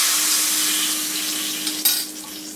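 Asafoetida, mustard seeds and green chilli crackle in hot oil in a ladle as a tempering for Malabar spinach sambar. A steady close sizzle is heard, with a brief metal clink and burst of spattering near the end.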